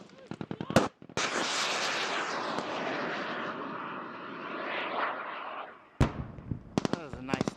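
A mortar or artillery round explodes in a top-down attack near a forward operating base, making a loud, broadband roar that holds for about five seconds, with sharp cracks and clicks just before and after it.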